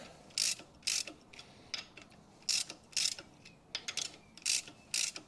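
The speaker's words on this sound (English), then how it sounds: "So just walk it on. A few cranks on each bolt at a time." Ratchet wrench clicking in short bursts while tightening bolts on a 12-valve Cummins engine timing case, about ten quick close ratcheting runs with brief pauses, no voices.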